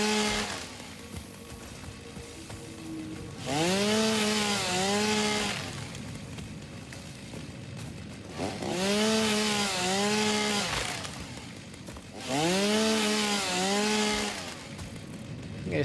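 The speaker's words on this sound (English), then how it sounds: "now that we have the chainsaw, we're actually getting quite a lot of stuff a lot quicker" Chainsaw cutting trees in the video game Satisfactory, three long loud revving bursts with rising and falling engine pitch, separated by quieter idling gaps and no speech.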